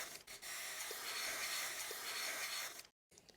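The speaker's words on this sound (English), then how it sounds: "let's give that a bit of a clean with the old Carby cleaner" A steady spray of carburettor cleaner hisses close by on a vintage Victa Mustang two-stroke lawnmower for nearly three seconds, cuts off abruptly, then briefly resumes.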